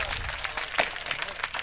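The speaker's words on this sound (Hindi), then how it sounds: "एक बार जोरदार तालियां बजाकर मुझे बताइए कि शेर अच्छे सुनाए" Listeners at a poetry recital in India clap together, a brief burst of hearty applause with voices and shouts mixed in, one sharp louder clap standing out.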